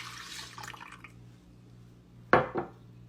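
Milk poured into cake batter gives a soft, close liquid splash and trickle for about a second, followed later by a sharp clink of a bowl or utensil and a smaller knock.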